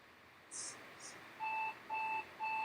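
A novelty talking alarm clock chimes, then repeats a steady electronic beep pattern in three loud, evenly spaced bursts, close and clear with no voice over it.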